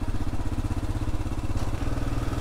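A motorcycle without top case or saddlebags creeps slowly through traffic, its engine a steady close throb with a low chugging pulse and ambient road noise, no speech.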